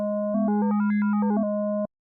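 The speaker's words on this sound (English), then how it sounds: "We're going to have more harmonic tones using the octaves." A VPS Avenger synthesizer's VA oscillator plays a sustained steady tone while octave-interval harmonic tones step up and back down over it in a quick electronic arpeggio-like run, loud and clean, ending abruptly.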